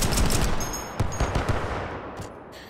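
A semi-automatic grenade launcher with a large drum magazine fires in the VR game Hot Dogs, Horseshoes & Hand Grenades, giving a loud close blast followed by a quick run of several sharp reports that taper off.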